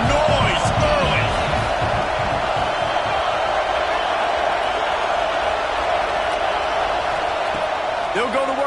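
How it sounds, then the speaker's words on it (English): A packed football stadium crowd roars throughout a college game against Notre Dame, a dense, steady wall of cheering and noise under a play-by-play commentator's voice. "This crowd bringing the energy and noise early."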